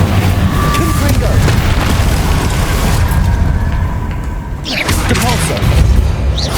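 Confringo explosive spell blast in Hogwarts Legacy, loud booming fiery blasts and rumbling impacts running continuously, with a sharp burst near the end.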